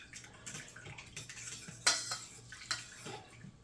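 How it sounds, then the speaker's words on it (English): A utensil whisks a honey marinade in a bowl with quick, irregular clinks and wet scraping strokes, close and moderately loud with no talking. "And then we are just going to whisk this up."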